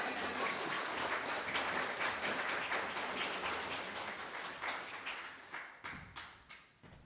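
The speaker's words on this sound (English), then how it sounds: "And you can clap now if you want to." An audience in a gathering hall claps together in a dense, fairly loud burst that thins out into scattered individual claps before fading.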